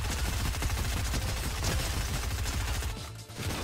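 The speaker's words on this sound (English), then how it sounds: "who shoots me and why did they shoot me?" Dense, continuous burst of gunfire from a Fortnite match, loud and close, with rapid shots packed together for most of the stretch before briefly dipping near the end.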